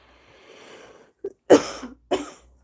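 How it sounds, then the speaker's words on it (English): Coughing in an indoor stitching session: a short throat sound, then two distinct coughs close to the microphone, over a faint background murmur. "Apologies for coughing."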